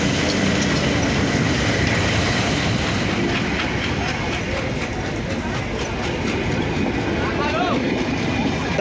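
A heavy train hauled by a WDM-3D diesel locomotive rumbles steadily past at close range near Saidpur Railway Station, wheels clattering rhythmically under a low engine drone, with voices faintly audible.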